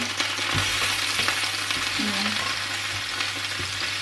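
Mushrooms fry in a hot pan with a loud, constant sizzle that stays close and even throughout, with a few faint clinks of stirring underneath.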